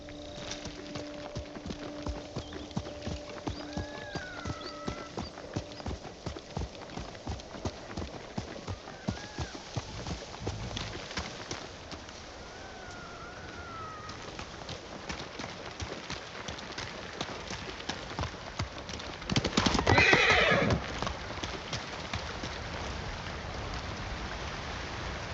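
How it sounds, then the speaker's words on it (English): Horse hooves clip-clop at a steady gallop in the game Ghost of Tsushima Director's Cut, with rain falling and a neigh late in the run. The sound is loud and continuous throughout. "Good horse, Kage."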